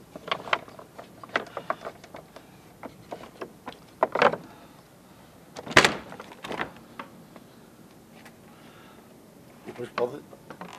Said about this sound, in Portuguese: Fechou, tirou-se a chave, ficou trancado.